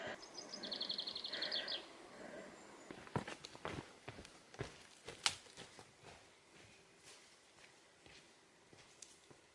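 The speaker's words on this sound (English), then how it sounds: "I'm actually hearing birds and seeing them flying around." Birds on a misty mountain trail in New Zealand's North Island ranges give a quick run of high chirps early on, followed by a hiker's soft footsteps crunching along in near quiet.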